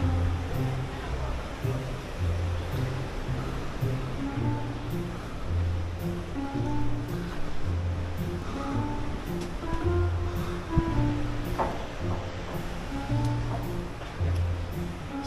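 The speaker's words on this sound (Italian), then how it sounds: "C'è acqua che viene giù dalle scale." Water running down the stairs of an abandoned house, a continuous rushing wash with low tonal murmurs mixed in, steady and fairly close.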